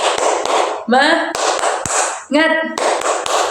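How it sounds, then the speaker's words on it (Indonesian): A class claps a spirit-clap rhythm together, sharp grouped claps in a patterned beat alternating with loud chanted voices of children and a teacher. "Ayo bareng-bareng. Tepuk semangat."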